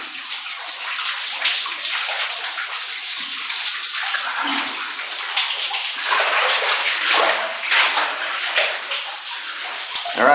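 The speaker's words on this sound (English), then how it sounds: "I didn't feel like standing in the cold water drops" Cold water drips and trickles steadily inside an abandoned underground mine, a continuous hissing, splashing shower of drops falling close by with no talking.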